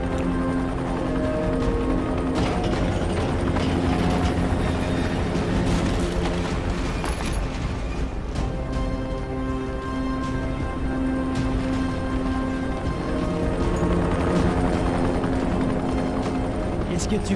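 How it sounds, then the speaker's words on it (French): A helicopter in the video game Dying Light roars steadily overhead with a loud, dense rotor and engine drone, joined by scattered impacts and voices speaking over it. "Vas-y, une petite balle dans l'hélico là"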